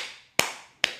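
Two sharp, close hand claps about half a second apart, done with a loose wrist-driven motion. They sound thin and tappy rather than full, and no one talks.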